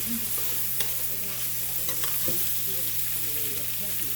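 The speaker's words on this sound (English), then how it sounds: "Get half of them going in here. Get them all stirred up." Ramen noodles stir-fry in a hot pan with a steady close sizzle, punctuated by a few sharp utensil scrapes and clinks.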